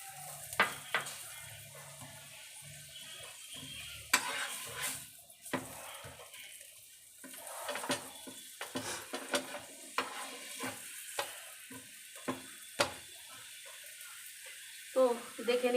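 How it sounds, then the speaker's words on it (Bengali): Radish paratha frying on a pan in a little oil, a soft sizzle under repeated scraping and tapping of a spatula, with bursts of louder clatter spread irregularly through. "হালকা তেল দিয়ে এরকম ভাজবে।"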